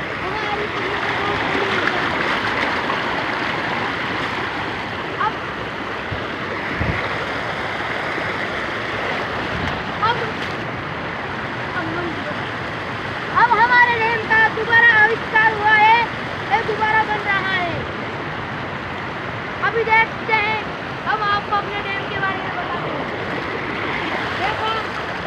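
Water rushes at a dam in a constant, full roar of flowing and splashing, with bursts of chirping and voices rising over it partway through.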